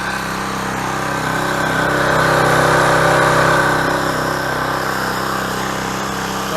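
A Coleman Powermate Pulse 1750 portable generator runs steadily nearby, its engine holding a constant loud drone with a slight swell in the middle and no break or stall.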